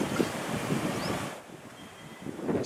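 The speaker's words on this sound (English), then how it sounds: "Speak loud, there's a lot of wind." Strong outdoor wind buffets the microphone in heavy rumbling gusts, dropping briefly to a quieter lull before surging again, with no voices.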